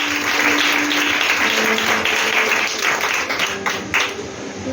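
Congregation applauding in a church, a steady wash of many hands clapping throughout, with a faint tone or voice running low underneath.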